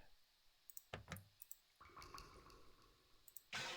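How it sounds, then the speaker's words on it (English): Water dripping sound effect from the visual novel Umineko no Naku Koro ni: a few sharp, wet drops plinking at irregular intervals against a quiet background, followed by a louder splashy burst near the end. "that water drip actually made me freaked me out for a moment because of just how smooth it sounds"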